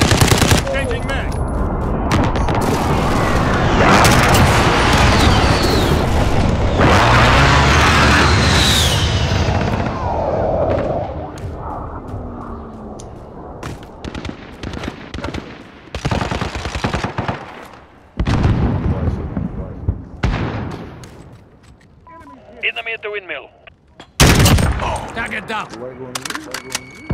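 Gunfire and explosions from a precision airstrike in Call of Duty: Modern Warfare hardcore team deathmatch, with dense machine-gun bursts and heavy booms up front, then sporadic shots and blasts, with players talking throughout.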